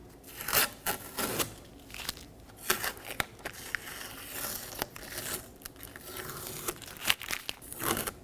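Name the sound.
peeling protective tape off new Ford Transit Connect mirror assembly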